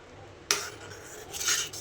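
A metal spoon stirs cooked sago in a pot for fruit custard: a sharp clink against the pot, then a short burst of scraping a moment later, close and clear.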